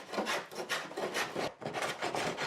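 Rhythmic rasping strokes of sanding and a block plane on a wooden desk top, close and steady, with short pauses between passes of abrasive scraping.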